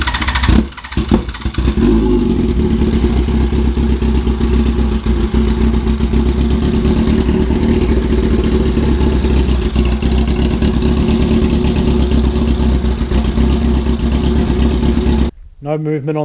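A motorcycle engine fed starting fluid through the air intake runs continuously and loudly close by, a rough steady drone, cutting out abruptly near the end.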